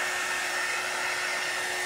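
A handheld hair dryer blows a steady, close, continuous rush of air to dry paint on dark wood, with no voices.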